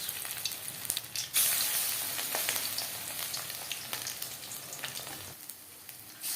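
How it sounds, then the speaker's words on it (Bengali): Coated fish pieces go into hot oil and set off a loud, steady frying sizzle with crackling that lasts throughout, no voices over it. "ফিশ ফ্রাই তৈরি করার জন্য পরিমাণ মতো তেল আমি গরম করে নিয়েছি। এবার দিয়ে দিলাম মাছ।"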